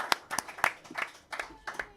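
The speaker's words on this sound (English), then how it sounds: "A big round of applause for our players." A few people clap for the players at the end of an online game session, giving sparse, quiet individual hand claps in an uneven rhythm over about two seconds.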